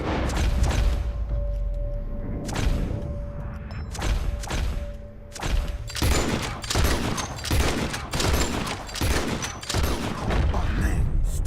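Repeated gunfire in the Western video game Red Dead Redemption 2, dense volleys of sharp shots and booms in irregular bursts, loud and close, with some talk over the shooting.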